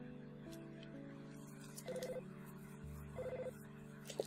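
Synthesized telephone tones from the video game EarthBound: two short beeping bursts rise over quiet, steady game music.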